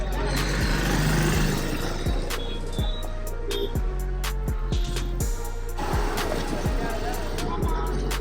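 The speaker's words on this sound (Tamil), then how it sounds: "ஓகே, வண்டி ஆன் பண்ணியாச்சு." A new Hero Super Splendor 125 motorcycle idles steadily with a low, even engine hum, punctuated by sharp clicks and knocks, while someone talks over it.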